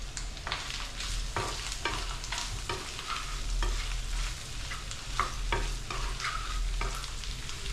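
Chicken curry fries in a pan with a steady sizzle while a spatula scrapes and stirs in repeated strokes, close-up with no talking.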